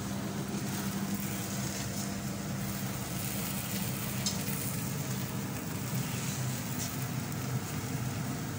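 A corn flour roti cooks on a griddle over low heat, giving a steady, faint sizzle with a low background hum throughout and no talking.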